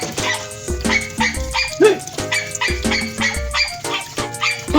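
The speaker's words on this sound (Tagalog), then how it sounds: "Ang ingay ng aso!" A dog barks noisily in rapid repeated bursts, loud and close, with an occasional whimper-like yip between the barks.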